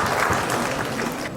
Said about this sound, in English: welcome him with a big round of applause